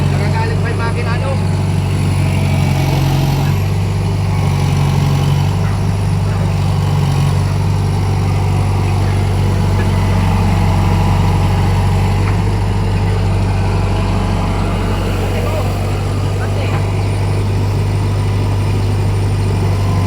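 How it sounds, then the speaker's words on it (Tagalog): A diesel engine in a Hitachi EX backhoe, its 4BG1 motor idling in a heavy, steady low rumble that runs loud and unbroken throughout, with people talking over it. "Nagagalit pa yung makina, no?"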